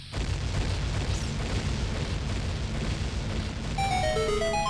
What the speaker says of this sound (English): you put the bomb here. Cause a chain reaction.